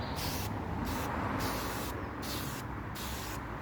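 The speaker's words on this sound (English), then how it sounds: "where's my silicone spray?" Short bursts of hissing silicone lubricant aerosol spray, repeated several times in quick succession, close and steady with brief gaps between sprays.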